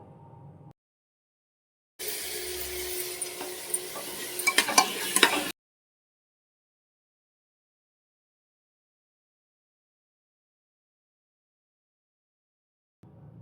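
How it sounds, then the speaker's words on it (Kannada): Finely chopped medium tomatoes fry in a pan for veg pulao, a brief stretch of soft sizzling with a few clinks and scrapes of stirring, set between long silences. "ಟೊಮೆಟೊನ ಸೇರಿಸ್ಕೊಂಡು ಟೊಮೆಟೊ ಸಾಫ್ಟ್ ಆಗೋವರೆಗೂ ಫ್ರೈ ಮಾಡ್ಕೊಬೇಕು"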